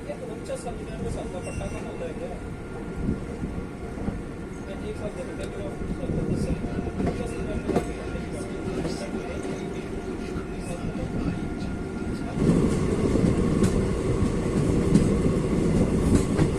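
The Chetak Express rolls out on its run from Udaipur toward Delhi, a steady rumble and clatter of wheels on rails close by that swells louder near the end, with faint talk underneath.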